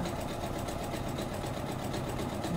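A sewing machine stitches a rolled narrow hem in fabric, running as a steady, fast mechanical whir with a rapid needle rhythm that holds at an even loudness throughout.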